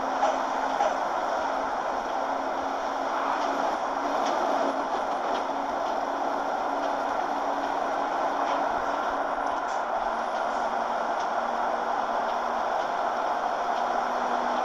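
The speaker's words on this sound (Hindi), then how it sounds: "ऊपर ट्रेनें जा रही है।" A train passing overhead on a bridge in a truck driving game, heard as a steady, broad rumble and rolling roar lasting throughout, with faint rhythmic clicks, beneath the continuous drone of the truck.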